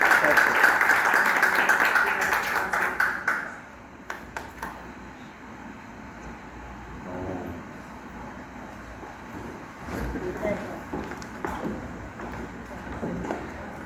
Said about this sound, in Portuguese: Uma salva de palmas para a nossa